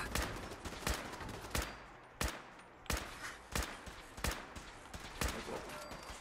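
Repeated gunshots from a firefight in the video game Fallout 76, about ten sharp reports spaced irregularly across several seconds, loud and close over a low background din.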